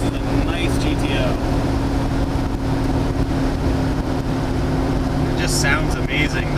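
Inside a 1965 Pontiac GTO with a Tri-Power engine cruising lightly on an open road, a low steady engine drone and rumble carries under wind and road noise, with brief voices talking.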